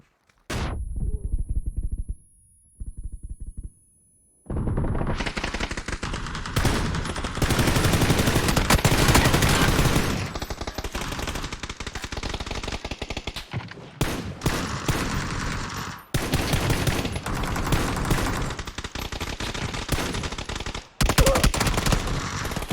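Call of Duty Warzone match, long loud bursts of automatic gunfire with rapid machine-gun fusillades and short gaps between volleys, close and dominant throughout.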